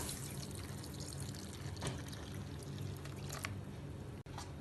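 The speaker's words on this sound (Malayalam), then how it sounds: "ഇനി ഇതിലേക്ക് റെഡിയാക്കി വെച്ച ബദാം മിൽക്ക് ഒഴിച്ചു കൊടുക്കാം." Almond milk pours steadily into a bowl of overnight oats, a soft continuous liquid stream close by with a few faint clinks, no talking.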